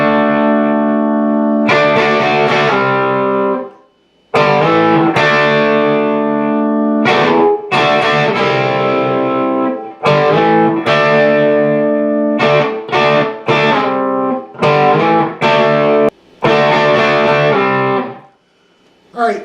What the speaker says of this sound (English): during the bass break, a guitar will enter, and it's kind of laid back a little bit